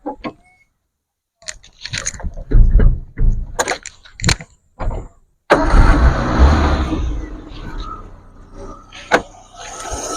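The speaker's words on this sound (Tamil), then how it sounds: "வண்டி இப்போ நான் ஸ்டார்ட் பண்ணி காமிச்சிடறேன் பாத்துக்குங்க." A Maruti Zen LX running on LPG cranks and fires up, with sharp mechanical clicks and clunks first, then a steady mid-pitched idle that carries on to the end, close to the microphone with no talking.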